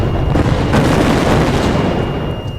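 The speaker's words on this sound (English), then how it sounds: "There was another explosion" A loud, dense explosion effect rumbles as a broad, booming roar with crackling debris noise, filling the short span before easing slightly at the end.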